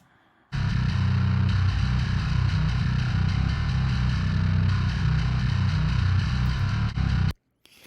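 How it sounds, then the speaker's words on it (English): A bass guitar split through a grit amp and a sub amp gives a heavy distorted tone with a thick low-end chug, played steadily and loudly for about seven seconds before stopping abruptly, with no voices. "We can hear how this bass tone came out of the 2 amps"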